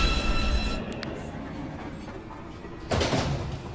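A New York subway 2 train rumbles into a station platform, a loud steady rolling roar with a brief metallic squeal and a fresh surge of noise near the end.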